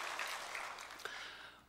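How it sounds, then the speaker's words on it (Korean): A church congregation claps in praise during a Sunday worship service, a faint, distant wash of applause that trails off within a couple of seconds. "우리 찬양 받으신 주님께 영광의 박수 올립시다"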